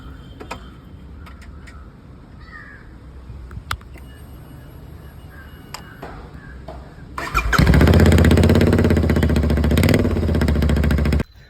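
A Royal Enfield Interceptor 650 with its exhaust silencer removed fires up after some clicks and ticks, then roars loud and raw at close range for several seconds before cutting off.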